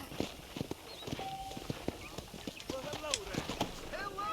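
Horse hooves clip-clopping at a steady walk in Red Dead Redemption, the rhythmic knocks close and clear, with people talking over them.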